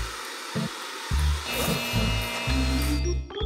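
A hair dryer blows air with a steady broadband rush that starts and stops in short bursts, then runs continuously and loud, with a low motor hum underneath.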